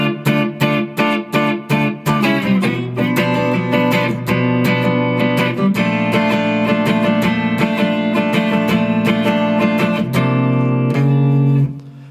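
Guitar plays the bridge of a song, starting with a few plucked strums and then moving into sustained, ringing chord notes, loud and close with no voice.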